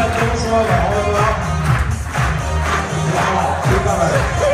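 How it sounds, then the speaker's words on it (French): A convention audience in a hall cheering and shouting with a dense roar of many voices, loud and sustained, clapping blended into the crowd noise. "on peut l'applaudir aussi très très fort"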